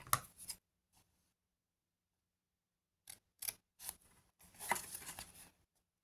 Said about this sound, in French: On va couper déjà les deux languettes du bord.